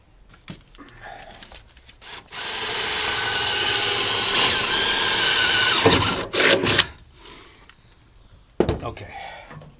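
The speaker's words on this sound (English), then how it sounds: "We're going to drill that with a 5/16 inch drill bit" A power drill with a 5/16 inch bit whines steadily through metal for about four seconds, loud and close, then stops with short bursts of handling noise and a voice speaking around it.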